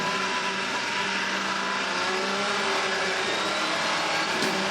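A hybrid prototype race car engine, an Audi R18, drones at a steady high pitch, a continuous loud hum with faint whine, close by and with no one talking.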